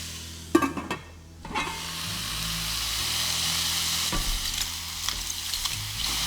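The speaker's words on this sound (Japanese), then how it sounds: "きのこからまた水分が出てくるので、また蓋をして蒸し焼きにしていきます。" Mushrooms added to a pan of half-cooked ingredients sizzle and hiss steadily as they steam under a lid, with a few clattering knocks of lid or utensil early on and later, close and moderately loud.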